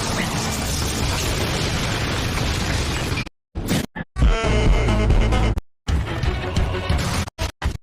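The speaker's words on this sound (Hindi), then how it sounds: "Fire style, fireball jutsu." Anime fire-style fireball jutsu blast from an Itachi versus Sasuke fight, a loud roaring explosive rush broken by sudden silent cuts and renewed bursts.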